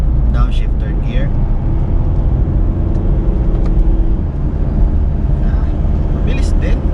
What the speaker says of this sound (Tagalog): Downshift third gear.